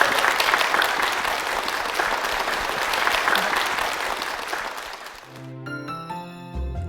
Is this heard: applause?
yes